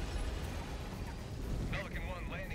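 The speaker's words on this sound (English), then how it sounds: "I'm airstriking the Bile Titan." Airstrike blasts hitting a Bile Titan in a sci-fi shooter game, a dense rumbling roar of explosions sustained throughout, with a voice talking over it.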